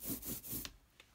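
Paper rubbed by hand over an inked lino block during printing, a few quick close scuffing strokes in the first half followed by a couple of faint taps, with no voices.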